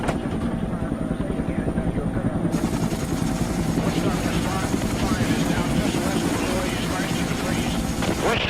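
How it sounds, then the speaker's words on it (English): Steady, loud helicopter rotor drone fills the whole stretch, with a constant thrumming roar and no pauses. "Over the radios, we can hear the choppers ahead of us."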